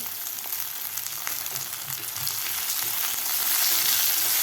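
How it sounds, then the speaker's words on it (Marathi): Green peas and finely chopped peeled potato frying in a pan, a close, steady sizzle with soft scraping from stirring, the hiss swelling slightly toward the end. "आता भाज्या भाज्यासुद्धा आपल्याला एक ते दोन मिनिट व्यवस्थित परतून घ्यायच्या आहेत"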